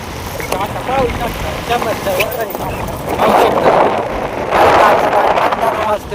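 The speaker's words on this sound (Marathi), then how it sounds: "आता वाऱ्याचाच आवाज येतो" Strong wind buffets the microphone on a rough mountain road near a village, roaring in heavy gusts that swell louder toward the end, with people talking underneath.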